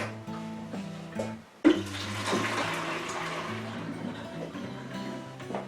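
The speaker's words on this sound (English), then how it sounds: "I just need to rinse the bucket out with some hot water from the" Hot water from a kettle pours into a bucket being rinsed out for wine brewing, a splashing gush that starts abruptly after a low humming background and continues steadily at close range.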